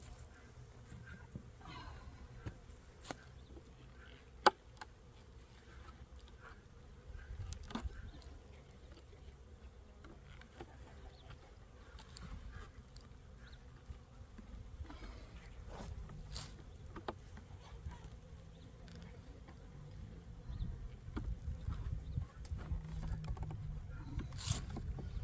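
Honey bees buzzing around a hive during a checkup, a steady close insect drone with scattered louder passes and occasional knocks, no talking.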